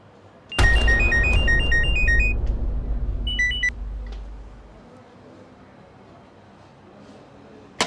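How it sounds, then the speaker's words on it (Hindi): A phone rings unanswered, a bright electronic ringtone melody that plays loudly for a couple of seconds and returns briefly, over a heavy low rumble that fades away. "मैं कब से आपको कॉल कर रही हूँ, आप मेरा फोन क्यों नहीं उठा रहे?"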